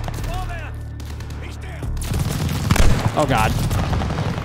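Gunfire in the Call of Duty Vanguard campaign, a burst of rapid shots and booms rising after the first two seconds, with a voice reacting over it.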